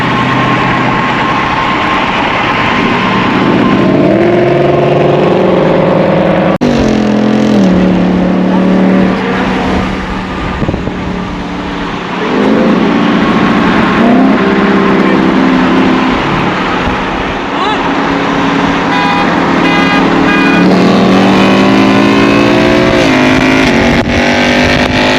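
Three third-generation Ford Mustangs accelerating hard in a 60-roll race in Mexico, engines roaring loud and near with rising pitch through repeated gear changes, several cars layered over one another the whole way.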